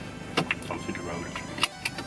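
A car driving along a road, heard from inside as a steady low road rumble with a few sharp clicks and knocks over it, and no clear speech.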